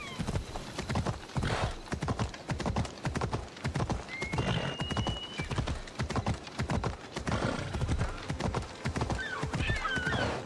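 Horse hooves clip-clopping in Assassin's Creed Odyssey gameplay, a quick, regular gallop of strong hoof strikes throughout, with a faint whinny and light game ambience.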